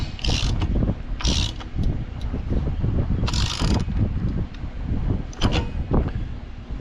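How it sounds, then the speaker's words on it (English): Clamp on the exhaust manifold of a Case 305 tractor being tightened with a hand tool, giving a few bursts of close ratcheting clicks over low mechanical rumble. "tighten up this clamp"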